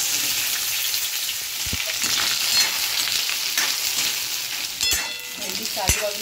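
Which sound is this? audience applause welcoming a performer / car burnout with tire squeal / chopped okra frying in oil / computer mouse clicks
chopped okra frying in oil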